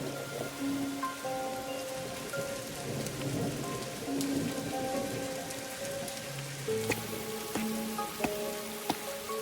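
Steady rain falls in the Master Detective Archives: Rain Code video game, a continuous patter with soft thunder rumbling beneath, heard alone without speech.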